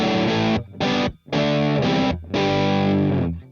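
An electric guitar played through a Joyo Jackman distortion pedal rings out in loud, thick, bright chords, several separate strums with short gaps between them, alone with no talk.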